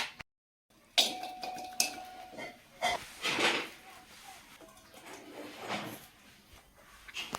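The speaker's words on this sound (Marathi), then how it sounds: "आता आपण जे कट केलेले लिंब होते तर त्यांना आपण एका परत एका पातेल्यामध्ये टाकणार आहोत" Cut lemons dropped into a small pot for lemon pickle, heard as scattered near clunks, knocks and rattles of fruit and metal at irregular intervals in a quiet kitchen.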